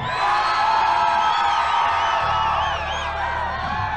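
Crowd at a 1989 heavy metal concert in Philadelphia cheering, whooping and screaming loudly and continuously, a dense wall of many voices with rising yells throughout.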